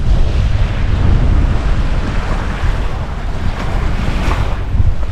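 Strong wind roars across an open microphone while choppy lake waves slap and wash steadily on Comox Lake, a dense, loud, unbroken mix with no voices.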